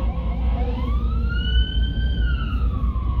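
A fire engine siren wails past outdoors, its rising and falling tone sweeping up and holding loud and near over steady traffic rumble, with no talk.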